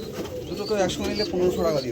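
Pigeons kept in a loft for sale coo in soft, rolling phrases close by, with a couple of overlapping calls over a constant background murmur.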